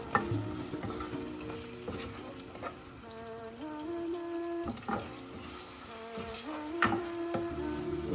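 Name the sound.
spices and ginger garlic paste frying while stirred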